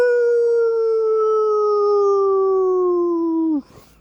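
A single wolf howl at night, one long steady tone that slowly drops in pitch for several seconds before cutting off abruptly, clear and fairly close against a quiet background.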